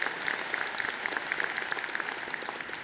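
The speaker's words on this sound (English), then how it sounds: "We can clap, yes." Audience applause fills a high school commencement hall, a dense steady patter of many hands clapping together, loud and continuous throughout with no break.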